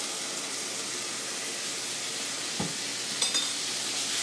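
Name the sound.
minced garlic sizzling in a hot pan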